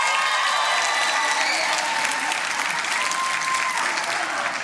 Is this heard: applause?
yes